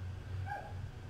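A dog barks once in a room, a single short faint yip over a low steady hum.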